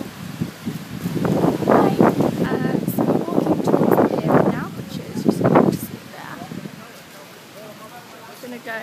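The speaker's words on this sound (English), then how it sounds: "It's a bit windy today" Strong gusty wind at the beach buffets the microphone with rumbling roars, easing off toward the end.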